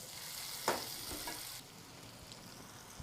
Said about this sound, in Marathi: कांदा टोमॅटो दोन ते तीन मिनटं परतून घ्यायचं